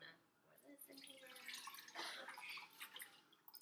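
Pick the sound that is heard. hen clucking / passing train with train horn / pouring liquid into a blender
pouring liquid into a blender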